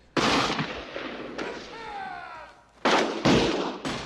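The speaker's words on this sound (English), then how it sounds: "they're shooting M16A1s, came out of the Vietnam War" M16A1 rifle gunfire in a Marine Corps military movie scene: a handful of sharp, loud shots in uneven bursts, with echoing reverberation between them and a whistling sweep in the middle.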